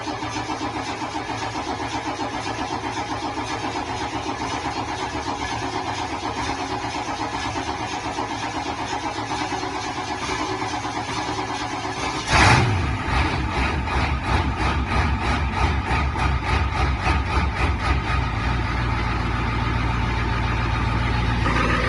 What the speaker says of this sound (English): Ford F-250 having starting problems.